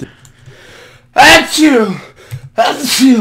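A single sharp sneeze bursts out mid-conversation, then another short vocal burst follows moments later, close and loud against quiet room tone, with people talking around it.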